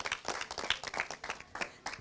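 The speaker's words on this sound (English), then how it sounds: "Let's give them all a round of applause." Audience at a high school alumni family weekend clapping for first place trophy winners, a modest scattering of hand claps, fairly quiet and moderately distant.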